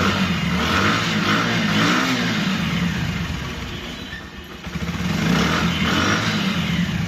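A Bajaj Platina motorcycle engine revs up close, a loud continuous drone that swells, dips briefly and climbs again, with no talking.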